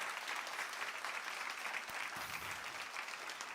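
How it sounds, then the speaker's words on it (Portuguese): A church congregation at a Christmas service applauds the choir, a steady, fairly distant wash of clapping from a large crowd. "Vamos aplaudir Jesus, aplaudindo esse coral também."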